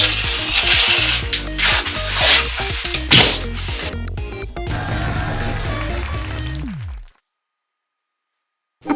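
Old plasterboard being cut and broken up during a kitchen renovation, with loud close rasping, scraping and cracking noises in quick irregular bursts, ending in abrupt silence.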